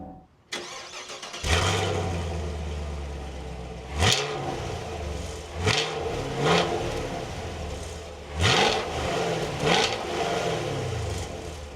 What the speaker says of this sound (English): So let's fire this up again and get some rev clips of that V8.